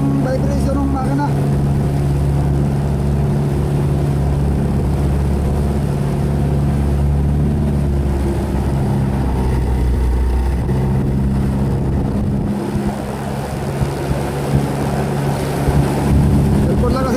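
Motorboat engine on a river after a typhoon, a steady loud low drone with constant vibration throughout, with wind and water noise mixed in.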